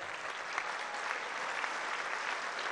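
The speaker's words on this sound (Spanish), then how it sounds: "un aplauso para Bisuet." A crowd at an outdoor political rally in San Luis Potosí, Mexico, applauds steadily, a dense and even roar of many hands held at a constant level throughout.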